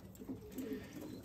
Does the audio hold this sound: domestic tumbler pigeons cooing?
yes